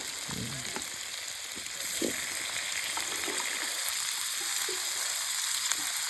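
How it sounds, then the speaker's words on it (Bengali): Onions fry in a pan at an outdoor picnic cooking crab and fish curry, giving a steady, close sizzle with soft crackles and occasional stirring clatter, and no one talking. "শুয়ে শুয়ে পেঁয়াজ ভাজা হচ্ছে"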